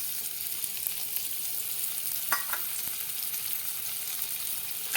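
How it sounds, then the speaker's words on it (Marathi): A cup of finely chopped onion fries in hot oil for Satara-style mhadya. A continuous close sizzle runs throughout, with a few scraping knocks from stirring about midway, and no voices. "आता आपलं हे तेल तापलं की आपल्याला यामध्ये कांदा घालायचा आहे"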